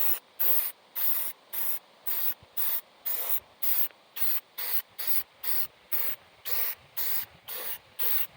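Spray paint from an aerosol can laying a heavy coat onto shooting targets, heard as about fifteen short, even hissing bursts in a steady rhythm, each cut off by brief silence, close and fairly loud.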